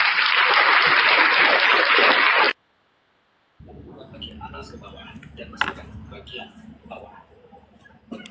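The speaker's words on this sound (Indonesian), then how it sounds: "Ya, tepuk tangan buat Tuhan Yesus." A crowd claps for about two and a half seconds, dense and loud, then stops abruptly, and after a short silence voices take over.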